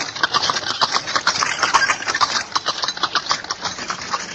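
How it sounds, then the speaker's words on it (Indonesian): A horse-drawn carriage rolls over a stony road, its hooves beating a quick, rhythmic clip-clop over a rumbling, rattling roll of wheels, close and steady throughout. "Kereta kuda yang dibawa oleh Wali Kadep itu pun terus meluncur di jalanan berbatu"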